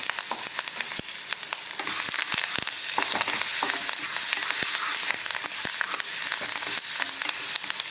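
A tempering of asafoetida, dried chillies and curry leaves frying in hot oil for ash gourd mor kuzhambu, a dense crackling sizzle with sharp pops and spatters close by, no talk.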